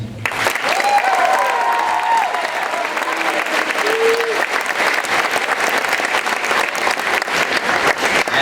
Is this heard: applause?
yes